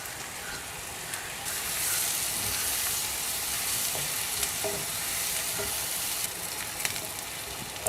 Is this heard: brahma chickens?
no